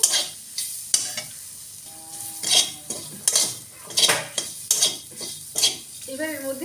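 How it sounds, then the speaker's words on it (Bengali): Ginger stir-fried in a pan, with repeated bursts of sizzling and metal utensil scrapes and clinks against the pan in an uneven rhythm, close and fairly loud, no speech. "আদাটা একটু কষিয়ে নেবো"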